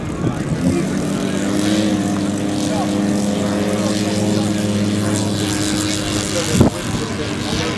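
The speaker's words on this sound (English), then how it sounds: "This aircraft, the Beech D-18S." A Beech D-18S twin piston propeller aircraft runs steadily nearby, a loud droning engine hum with strong tonal harmonics throughout, under talk from people nearby.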